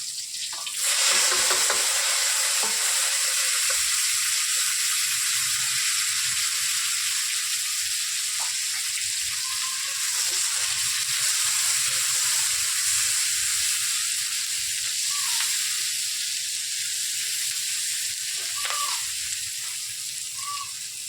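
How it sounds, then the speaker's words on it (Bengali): Bay leaf, green and dried chillies and onion fry in hot ghee for a chicken dish, giving a steady, close hissing sizzle with occasional faint stirring clinks throughout. "ফোটনে তেজপাতা আর কাঁচা লঙ্কা, শুকনো লঙ্কা, পেঁয়াজ"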